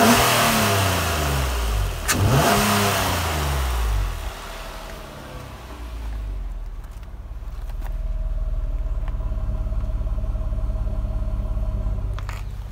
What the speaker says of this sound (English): Let's get a little rev.